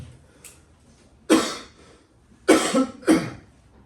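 Three sharp coughs, close and loud: a single one, a pause, then two more in quick succession, with quiet room tone between.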